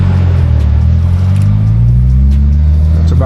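A car cruising on an empty road at about 4 a.m. with the windows partly lowered, giving a steady, loud low engine drone with wind buffeting, close and continuous, with no voices.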